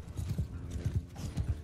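Horses galloping on the battlefield of the video game Mount and Blade II: Bannerlord, rapid repeated hoofbeats in an uneven clip-clop rhythm, fairly close and moderately loud with a faint din behind.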